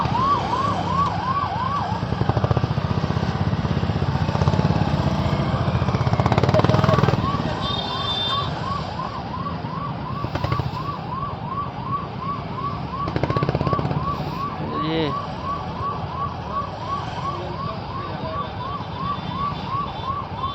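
An ambulance siren wails in repeated rising-falling cycles, fairly close, while stuck in a heavy traffic jam on a national highway, with engine rumble, horns and occasional voices around it.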